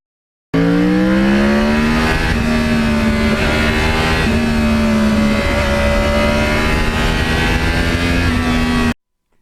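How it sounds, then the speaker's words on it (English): 2009 Yamaha R1 crossplane motorcycle engine running loud and close, a continuous rough, throbbing drone with rising and falling pitch as the revs shift, alone with no voices. "When you're riding the bike, the sound of that crossplane is very, very unique."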